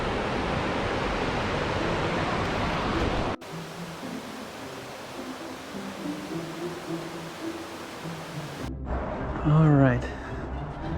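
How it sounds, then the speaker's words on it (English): Rushing water of river rapids near Harpers Ferry, a broad steady hiss that holds loud, then drops to a softer wash with wind-like noise and a brief voice near the end. "Rapids."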